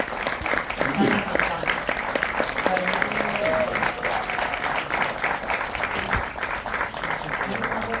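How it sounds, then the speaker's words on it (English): An audience applauds to welcome a film's director and cast, sustained thick applause from a large crowd throughout, with a few voices speaking over it. "welcome with an applause"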